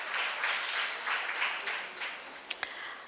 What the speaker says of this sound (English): let me allow you to give us each a hand clap